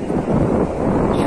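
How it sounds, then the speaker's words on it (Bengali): Strong wind buffets the microphone at Kuakata sea beach at sunset, a dense continuous roar with surf likely mixed in, filling the whole short moment. "শুধু বাতাস আর বাতাস"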